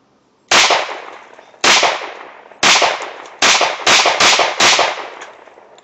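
Seven sharp gunshots from an Astra A70 9mm pistol, loud and close, fired at uneven intervals with the last few in quicker succession, each shot ringing off briefly.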